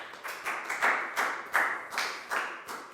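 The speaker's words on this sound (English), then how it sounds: "High five and a big round of applause for Pak Bung, guys." Applause in a Year 4 English lesson classroom, a short run of sharp, evenly spaced hand claps, about ten in quick rhythm, close and clear with no talking over them.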